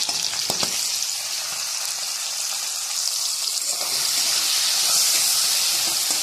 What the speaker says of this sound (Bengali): আস্তে আস্তে করে ভেজে নেব।